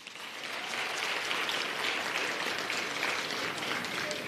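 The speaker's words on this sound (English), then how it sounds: "Can we clap hands for yourselves?" A crowd at a political address claps steadily and fairly loudly for several seconds, a dense uniform patter of many hands without speech over it.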